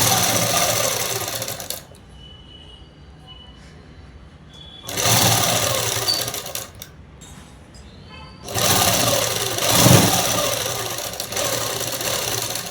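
A sewing machine stitches a French-cut dress in three steady, rapid whirring runs, separated by quiet pauses, close and fairly loud.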